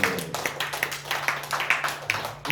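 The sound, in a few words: congregation clapping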